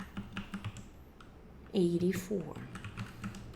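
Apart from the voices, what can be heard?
typing on a computer keyboard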